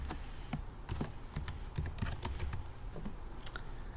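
Fingers type a client's name on a computer keyboard, a quick run of crisp, close key clicks in uneven bursts with no talking.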